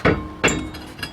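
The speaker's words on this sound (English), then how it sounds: "I just tapped here with a rubber mallet. And I got it loose." A rubber mallet taps the back of a brake rotor on a 2008 Saturn Vue, giving two close, sharp knocks with a short ringing metallic tail, then a fainter third tap.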